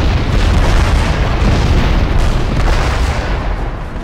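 A tank takes a hit from a massive explosion in Crysis, and the deep, loud rumbling blast sustains for several seconds before tapering off slightly at the end.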